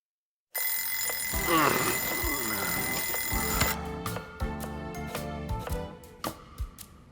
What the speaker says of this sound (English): I even moved the alarm and everything. Turning it off in your sleep is a talent.